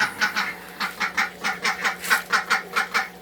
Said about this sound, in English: just let the ducks and the chickens out